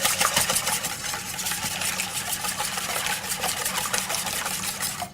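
Eggs and heavy cream are whisked briskly in a bowl, a fast rapid clatter and swish that keeps going steadily at close range, with no one speaking over it.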